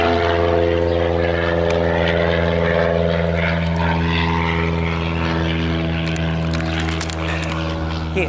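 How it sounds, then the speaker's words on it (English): A propeller airplane drones overhead near a flight museum, a loud sustained engine hum with a steady pitch that slowly shifts as it passes, while people talk in the background. "Airplane. See if we can catch it."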